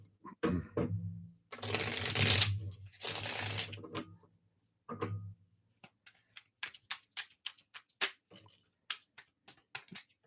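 Cards are riffled and shuffled in bursts, followed by a run of quick, light ticks and taps as they are handled and squared.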